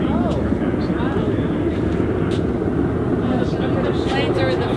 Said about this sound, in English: It's the Marine Corps aircraft that has helicopter blades, and it vertically lifts and then flips their engines forward